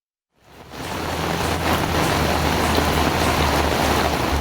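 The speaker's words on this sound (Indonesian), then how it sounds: "Hujan deras yang mengguyur selama 2 jam" Heavy rain pouring steadily over a residential area in Bogor, West Java, a dense, constant hiss that swells in after a brief silence and holds without pause, with no voices.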